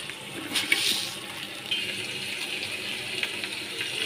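Water poured from a vessel into a cooking pan while making a potol chingri (pointed gourd and prawn) recipe, a steady close splashing gush lasting several seconds with no talk.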